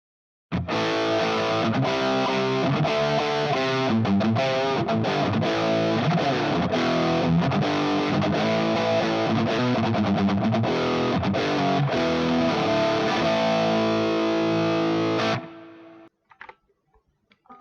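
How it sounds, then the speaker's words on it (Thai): A heavily distorted electric guitar through a Line 6 POD Go plays steady, loud chords and riffs for about fifteen seconds, then cuts off abruptly into near silence with a few faint clicks. "ผมจะลองเล่นกับเอฟเฟกเสียงแตก"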